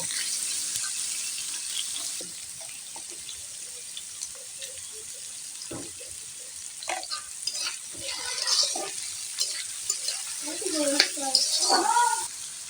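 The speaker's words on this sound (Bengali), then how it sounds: "আমি নুডলস রান্না করলে এরকম ভাবে ভেজেই তারপরে দিই নুডলসে" Potatoes and carrots fry in a pan for noodles, a quiet continuous sizzle with scattered clicks and stirring scrapes that grow busier toward the end, heard close with no clear talking.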